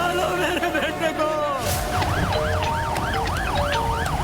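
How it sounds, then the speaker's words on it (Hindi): Ambulance siren wails nearby, first in slow sweeping tones and then a fast rising-and-falling yelp, loud over traffic and road noise. "एम्बुलेंस रास्ते में है।"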